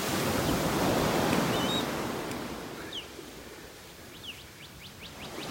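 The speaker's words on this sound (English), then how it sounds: "Hear the birds chirping." Faint bird chirps and whistles rise over steady rushing surf and wind on a beach in North Naples, Florida, growing into a quick series of calls toward the end.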